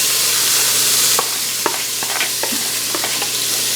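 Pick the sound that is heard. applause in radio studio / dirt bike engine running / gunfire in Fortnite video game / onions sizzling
onions sizzling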